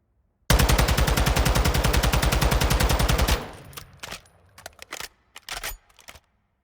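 TAQ 56 assault rifle in Warzone firing one sustained, loud, rapid automatic burst for about three seconds, followed by a few short scattered bursts and clicks.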